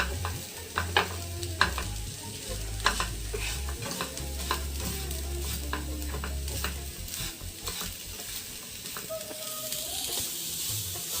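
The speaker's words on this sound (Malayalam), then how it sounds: "അഞ്ച് മിനിറ്റ് നേരം ഇങ്ങനെ വറുത്തെടുക്കണം" A steady sizzle from grated coconut and sugar frying in a pan on a low flame, with a spatula stirring and scraping in irregular clicks over a low background hum.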